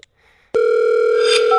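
A telephone call's ringing tone comes through a mobile handset after a brief quiet moment, then holds as a loud, steady, continuous tone to the end with no voices.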